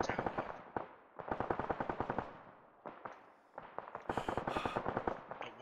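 Arma 3 gunfire in a co-op battle: rapid automatic bursts crackle in several rhythmic volleys separated by short gaps, with sharper, brighter shots near the end.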